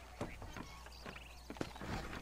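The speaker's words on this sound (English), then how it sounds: "Quando você usa o A, você espora ele, o cavalo corre mais." A horse galloping in the video game Red Dead Redemption, its rhythmic hoofbeats soft and fairly faint beneath someone speaking.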